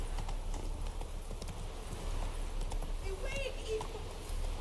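Horse hooves galloping in The Witcher 3, a steady rapid clip-clop that runs the whole way under a continuous wash of background sound, with a voice talking over it.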